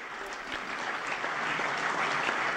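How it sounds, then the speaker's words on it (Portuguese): Sustained applause from an assembled audience greeting Pope Francis at a meeting with authorities in Tokyo, a steady, moderately distant wash of many hands clapping. "Foram convidados todos a saudar o Santo Padre com um aplauso."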